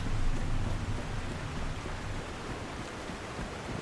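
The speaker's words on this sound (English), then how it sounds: "Also, get out of this rain." Steady rainfall in the video game The Last Caretaker, a dense, even hiss of falling rain with a low rumble underneath, fairly loud and continuous throughout with no talking.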